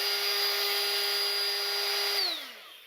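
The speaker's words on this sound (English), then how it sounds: "we're gonna do a small demonstration on how the trim router operates" A trim router with a roundover bit rounds over a wood edge, giving a steady high-pitched whine that holds loud and close, then winds down as the motor shuts off near the end.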